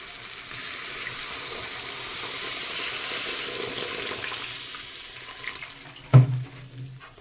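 Water poured into a pan of fried spice paste while making fish curry gravy with brinjal, giving a steady close hiss and splash that runs for several seconds, then a sharp clunk near the end.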